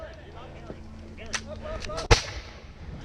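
Musket and cannon fire during an outdoor battle reenactment of the Storming of Stony Point, with a few scattered distant reports and one sharp loud blast near the middle, amid a background murmur of shouting men.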